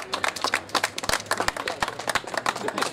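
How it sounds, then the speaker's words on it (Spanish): Applause rings out at a horse race prize ceremony at Hipódromo Córdoba, a crowd clapping in dense, steady rapid claps with a few sharp louder hand strikes standing out, continuing for the whole stretch with no talk. "Fuerte el aplauso."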